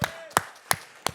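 Applause from a conference panel audience: a few separate sharp claps, four distinct bursts spaced about a third of a second apart, fairly close and moderately loud, with no talk over them.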